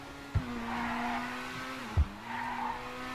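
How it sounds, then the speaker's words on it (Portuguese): A damaged white Ferrari in GTA V revs and accelerates with a steady, droning engine tone, broken twice by sharp thumps where the pitch dips before the engine climbs back up. "o motor tá funcionando ainda, hein. Vamos continuar acelerando aqui a bichinha"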